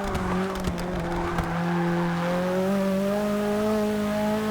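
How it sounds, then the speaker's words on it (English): A racing engine in Forza Motorsport 6, a Nissan Silvia build, drones at steady high revs with rising pitch as it accelerates, after a few brief tire squeals and clicks at the start. "Sounds like a proper little race car."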